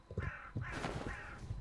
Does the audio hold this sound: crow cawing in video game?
yes